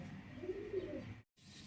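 Pigeons cooing at a pigeon farm in Bhawal Mirzapur, Gazipur, a soft low rolling coo repeating alongside brief chirps, close and steady before a short silent gap, then the cooing resumes.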